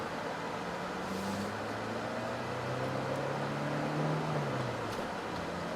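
A Chevrolet Cobalt SS Turbo with an F40 six-speed manual accelerates in gear, its engine tone climbing faintly under cabin road noise before dropping at a shift.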